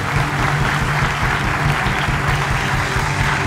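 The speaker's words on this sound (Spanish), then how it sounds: "Fuerte el aplauso" Studio audience at a live comedy talk show bursting into strong, dense applause, loud and close, holding steady throughout with a faint low hum beneath and no talk over it.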